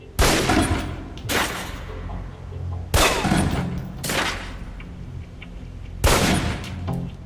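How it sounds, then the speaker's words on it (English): Pistol shots fired down range at a target in the video game Alpha Protocol: four loud, sharp reports spaced roughly a second or more apart, each trailed by a reverberant tail, with no talking. "Equip the pistol, then aim down range and take some shots at the target."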